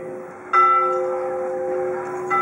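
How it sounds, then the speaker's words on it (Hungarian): Church bells ring from a tower in Bled at three o'clock, sustained overlapping tones swelling and holding clear and fairly close, with no talk. "a nagyon kellemes harangszó."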